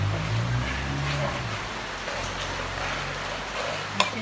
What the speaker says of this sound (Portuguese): aqui tá chovendo bastante